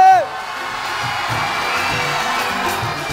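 Studio audience at a Pakistani TV game show cheering, whooping and shouting together in a loud, sustained roar that stays steady throughout.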